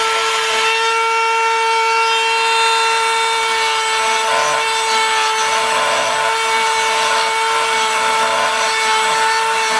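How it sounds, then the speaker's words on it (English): Dremel rotary tool with a new bit cutting rear bumper tabs on a Honda S2000, a steady high-pitched whine with strong sustained tones and gritty rubbing, loud and continuous throughout with no talk. "we got a new tool that's a new Dremel bit that's going to make easier work of this"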